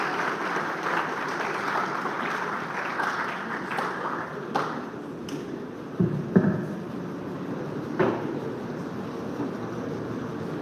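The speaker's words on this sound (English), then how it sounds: "applause, please." An audience at a university philosophy students' inaugural lecture applauds in a continuous wash of clapping that stays fairly even throughout, with a few sharper claps standing out.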